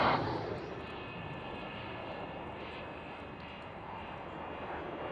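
A Breitling formation of aircraft drones overhead at the Fairford airshow, with a steady, broad engine roar that starts loudest and then holds at an even, distant level, with faint radio chatter behind.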